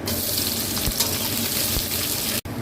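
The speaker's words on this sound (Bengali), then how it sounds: "আচ্ছা, ফোড়নটা হয়ে গেছে, এবার আমি পেঁয়াজ কুচনোটা দিয়ে দিলাম।" Chopped onion frying in hot oil already seasoned with black cumin seeds, a close, steady crackling sizzle with faint pops, ending in a brief cutoff.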